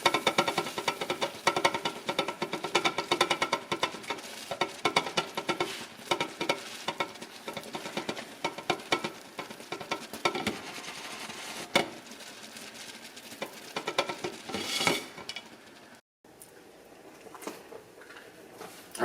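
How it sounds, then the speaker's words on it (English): A pot of beer wort boils vigorously with dense bubbling and sizzling, plus occasional clinks of a utensil against the pot; the bubbling eases and dips briefly near the end. "we've been boiling for 45 minutes"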